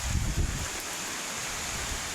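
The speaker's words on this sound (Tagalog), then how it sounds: "lakas kasi ng ulan guys sabay malakas pa yung hangin guys" Strong typhoon wind and heavy rain among banana plants: a steady, broad roar of rain and gusting wind, with a slightly louder gust buffeting the microphone at the start.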